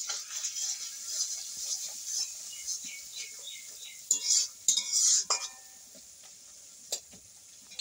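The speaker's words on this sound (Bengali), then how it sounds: "একটু কড়াটা নেড়ে নাও" Spice masala stirred in a kadai for a hilsa fish recipe, with a sizzling hiss overlaid by rhythmic scraping strokes of a spatula against the metal, a few louder clanks midway, close up.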